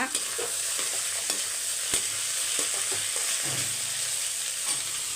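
Small potatoes with garlic and curry leaves stir-fry in a pan, a steady sizzle with scattered scraping stirs and clicks throughout, close and continuous with no voices.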